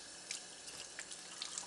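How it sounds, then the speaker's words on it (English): A water purifier filter rinsed under a running tap, a steady, soft stream of splashing water with a few brighter spatters and no speech. "to clean the filter, we simply run it under water from both ends"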